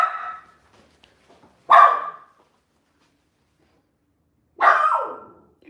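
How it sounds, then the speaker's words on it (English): A female dog barks indoors, two sharp single barks a few seconds apart, close and loud with quiet gaps between. "Who are you barking at?"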